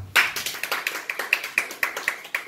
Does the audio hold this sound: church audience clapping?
yes